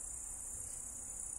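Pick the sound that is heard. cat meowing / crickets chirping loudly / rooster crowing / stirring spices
crickets chirping loudly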